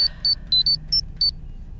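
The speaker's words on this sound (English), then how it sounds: "That's my timer." A timer beeping in a rapid irregular series of six high electronic pips over a low background hum, with no voices.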